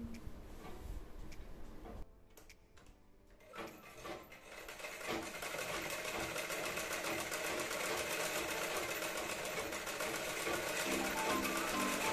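A sewing machine stitching a blouse runs steadily with a fast, even mechanical ticking, quiet at first, then pausing briefly before running continuously and loudly through the rest of the clip.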